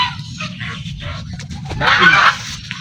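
Geese honk and cackle nearby in a loud, rough burst, with lower farmyard noise running throughout.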